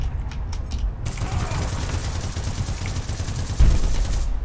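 Continuous rapid gunfire rattles through a firefight in the video game APB Reloaded, dense automatic bursts running nonstop with a heavier blast near the end.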